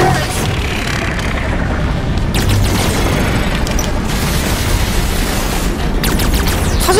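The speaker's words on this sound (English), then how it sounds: "Watch the fire from those turrets" Automatic turret gunfire in Halo 5: Guardians, a continuous loud rumbling barrage with rapid mechanical rattling and booming bursts throughout, dense and sustained with no pauses.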